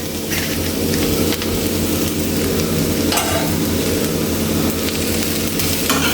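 Cooked, strained vermicelli is stirred and tossed into vegetables in a hot pan, with a continuous loud sizzle and scraping over broad, dense noise. No one speaks.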